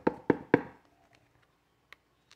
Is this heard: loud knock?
yes